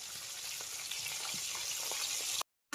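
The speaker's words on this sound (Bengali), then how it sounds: "আমার মাছ ভাজা কিন্তু সব হয়ে গেছে, এগুলো আবার তুলে নেবো" Fish frying in oil in a village kitchen near the Sundarbans, heard as a close, continuous crackling sizzle that cuts out briefly near the end, with no voices.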